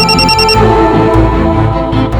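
A telephone rings loudly and close by with a repeated electronic tone, and no voices are heard during it.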